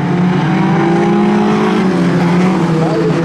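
A Toyota Corolla junior sedan races at Kingaroy Speedway, its engine a loud, steady, close droning roar with strong harmonic tones that shift slightly in pitch as it holds speed through the full stretch.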